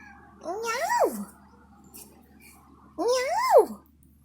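A tiny kitten gives two drawn-out, rising-and-falling meows a couple of seconds apart, fairly close and clear, with a soft background hush between them.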